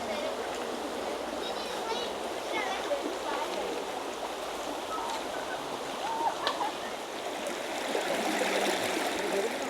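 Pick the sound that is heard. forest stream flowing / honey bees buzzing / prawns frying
forest stream flowing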